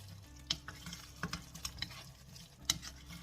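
Fried gizzard stirred in a simmering sauce for gizzard dodo, with soft scraping strokes and quiet bubbling, faint and close, punctuated by a few light clicks of the spoon against the pot.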